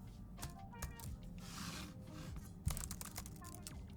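Rapid clicking of keys on a 2015 MacBook Pro 13-inch laptop keyboard in irregular bursts, close by, with a sharper tap near the middle and a faint rustle in the background.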